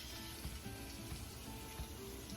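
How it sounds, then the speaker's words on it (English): Chile crisp ingredients, leftover shallots and garlic among them, sizzle in hot oil in a heat-proof bowl, a steady close crackle with a few soft pops. "Let this sizzle, everything's being activated"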